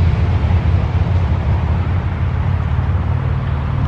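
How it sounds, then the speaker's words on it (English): Several motorcycles go by near an old speedway, a loud, steady low engine rumble with wind buffeting the microphone throughout. "Bunch of motorcycles going by."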